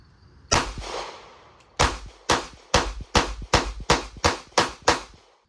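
Ruger LCP Max compact pistol firing about nine sharp gunshots at 7 yards, a first shot followed by a steady, evenly spaced string of loud, close reports with short ringing tails.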